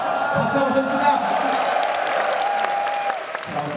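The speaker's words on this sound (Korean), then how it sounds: "박수 한번 칩시다." A church crowd at a Korean military training gathering applauds with sustained, moderately loud clapping, with some voices and a whoop over it.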